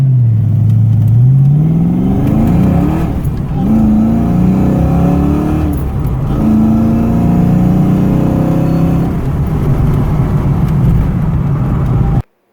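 A 1986 Ford Mustang GT with the 5.0L V8 driving, its engine note climbing through repeated gear changes in loud, close rising sweeps, steady throughout until a sudden cutoff at the end, with no talking.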